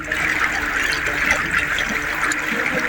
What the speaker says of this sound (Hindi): गलियां और बाजार पानी से भर चुके हैं